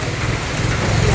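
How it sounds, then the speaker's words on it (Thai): Steady rain falling outdoors, a loud, dense, even hiss that fills the whole moment with a low rumbling undertone, with no voices. "ฝนมาแล้ว ฝนมา"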